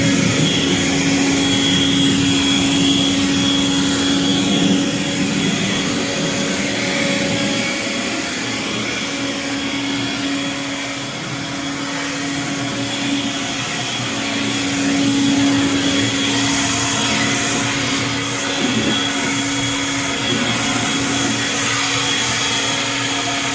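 A blower bought at Harbor Freight runs at full power on a porch, a loud, steady whining roar with a constant high motor tone that holds throughout with only slight swells.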